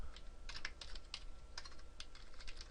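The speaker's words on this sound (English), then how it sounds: "So we can type" Quiet clicking of keys on a computer keyboard as code is typed, irregular quick taps close by over a faint room hum, with no speech.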